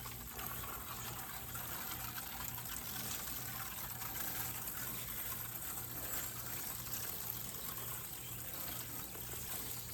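Rainwater poured steadily into a mix of wood chips and peat moss to soak breeder bedding, a continuous close splashing and trickling flow with a low steady hum underneath.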